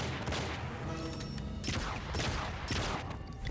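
Dense rifle gunfire from the video game Enter the Matrix, a loud continuous fusillade of overlapping shots with bursts of heavier fire and mechanical clatter throughout.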